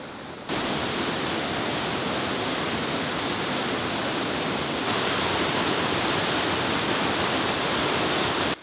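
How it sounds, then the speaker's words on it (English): A river waterfall roars as a constant broadband rush, loud and steady, growing slightly brighter partway through, with no voices. "I hear another waterfall."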